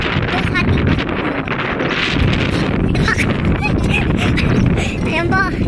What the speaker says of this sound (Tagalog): Sarap ng hangin.